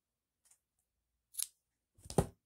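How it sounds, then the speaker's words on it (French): Scissors snip through crochet yarn: a faint click, then two quick, close cutting snips, the second louder and fuller, in an otherwise quiet room. "Je coupe"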